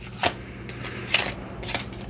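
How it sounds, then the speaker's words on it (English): Three quick riffling bursts of tarot cards being shuffled, evenly spaced about half a second apart, close and fairly quiet with no voices. "Let's go ahead and start shuffling the cards."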